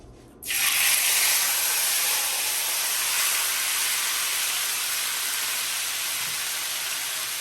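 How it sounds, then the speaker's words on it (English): Pork shoulder hits hot oil in a pot and sears with a sudden, loud, steady sizzle and hiss that holds evenly without any talk. "now that my oil is hot, I'm just gonna go ahead and place my pork shoulder inside the pot"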